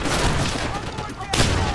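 Gunfire in the video game Call of Duty: World at War, a dense, loud burst of shots that rolls on for over a second before a sharp fresh blast, with a voice mixed into the noise.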